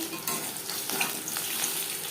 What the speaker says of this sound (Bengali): ভাজা হয়ে গেলে অপর সাইডটা উঠতে দেবো